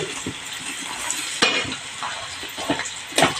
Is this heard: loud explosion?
no